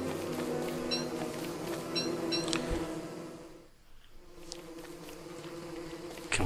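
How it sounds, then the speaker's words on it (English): Angry bees in the video game Don't Starve give off a continuous insect-like buzzing, loud and steady, dipping briefly partway through before swelling again. "Very angry bees there."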